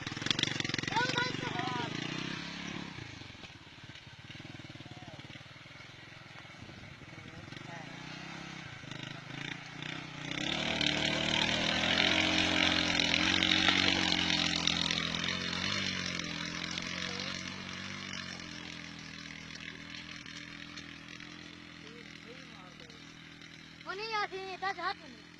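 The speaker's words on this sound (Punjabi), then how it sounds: "ਇਹ ਨਰਮੇ ਦੇ ਵਿੱਚ ਹਲ ਮਾਰੇ ਜਾਂਦੇ ਨੇ ਮੋਟਰਸਾਈਕਲ ਨਾਲ" Motorcycle engine revving and labouring while pulling a plough through a cotton field, rising and falling in pitch, heard at moderate distance with people talking over it.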